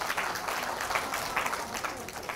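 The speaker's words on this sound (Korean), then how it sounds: "박수!" Classroom of students clapping after a classmate answers well in an English-exam prep lecture, a steady, moderately loud burst of many hands with no talking.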